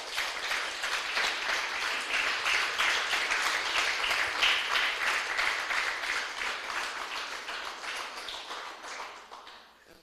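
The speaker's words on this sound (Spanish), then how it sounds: "Déselo fuerte el aplauso" A church congregation applauds, steady dense clapping for about ten seconds that gradually thins and fades.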